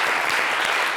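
A studio audience at a talk show breaks into a brief, dense burst of applause, many hands clapping close and loud with no pause.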